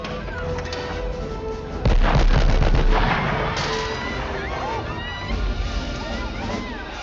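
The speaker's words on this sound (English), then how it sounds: "The gunshots are loud and crisp. The explosions are deafening, pulling you right into the chaos." Gunfire and explosions from the action film Die Hard, a loud chaotic mix of rapid shots and a heavy blast early on, with shouting voices and rumbling noise underneath throughout.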